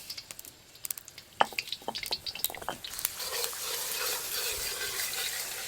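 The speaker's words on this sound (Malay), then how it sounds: "Masukkan bawang putih yang kita tumbuk." Pounded garlic dropped into hot oil in a wok, first a scatter of clinks and stirring taps, then a steady, bright sizzle that rises and holds for the last few seconds.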